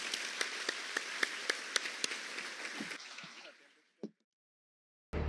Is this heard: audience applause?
yes